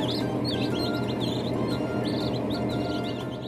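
Rhode Island Red chicks in a brooder chirp continuously, a chorus of high, bright peeps repeating in quick bursts over a steady low hum.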